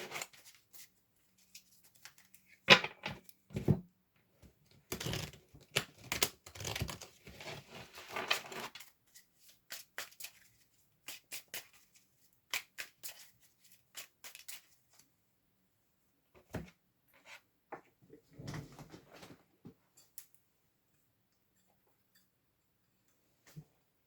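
A deck of tarot cards is shuffled by hand in irregular bursts of crisp riffling and soft slapping, with short pauses between and quiet gaps near the end.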